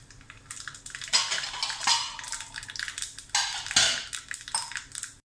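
Mustard seeds and curry leaves sizzling and popping in hot coconut oil in a pan, with sharp bursts of crackle and spatter alongside clinks of a utensil, close and fairly loud.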